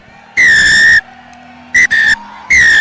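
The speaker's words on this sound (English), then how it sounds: "That's the long whistle, and Mahanama, what a victory for these lads" A referee's whistle ends a schools rugby league match at Nittawela, sounding loud and shrill: one long blast, then a short pip, a medium blast and another long blast, with no voices.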